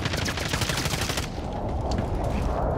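Rapid automatic gunfire from Call of Duty Warzone gameplay, a loud sustained burst of shots that cuts off partway and leaves a rumbling tail.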